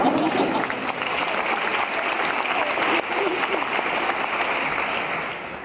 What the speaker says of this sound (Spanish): Pido que recibamos con un fuerte aplauso al protagonista de la siguiente ilusión.